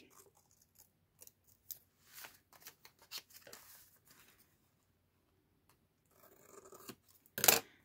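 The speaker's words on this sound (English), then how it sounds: "I'm gonna grab scissors, cut off this." Scissors cut through an old atlas page used as Christmas gift wrap, giving quiet scattered snips and paper rustles, then a denser crinkling run and a final sharp louder snip.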